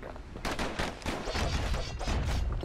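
Dual slinger pistols in the video game Bastion fire a loud, rapid barrage of overlapping shots that runs nonstop from about half a second in, dense and close with no voices.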